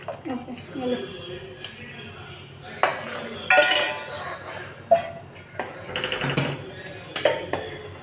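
A spoon stirring jaggery syrup in a pot: intermittent metallic scrapes and clinks against the pot, irregular and close, with someone talking in between.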